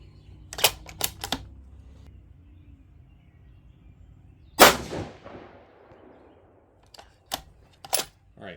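A 6.5 Creedmoor rifle firing 123-grain ELD-M rounds: a single loud, close shot with a long echoing tail, framed by sharp metallic clicks and clacks of bolt handling before and after, with no talk.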